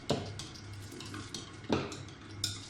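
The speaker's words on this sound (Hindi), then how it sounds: "आप इसी तरह एक ही तरफ हिलाते जाएं ताकि इसमें गैस भर जाए।" Urad dal batter being stirred steadily in one direction in a bowl, giving soft scraping swirls punctuated by a few sharper knocks of the spoon against the vessel, fairly quiet with no talking.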